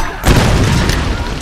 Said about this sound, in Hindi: अब तो बूम कर देगी भाई ये ग्रेनेड लॉन्चर